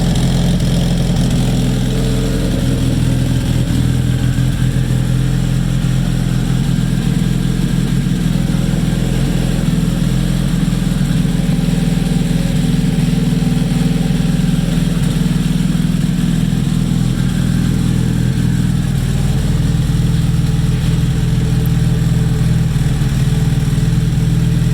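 A freshly rebuilt Nissan KA24DET engine idles steadily with oil pressure up, a loud, even rumble held without a break and no voices.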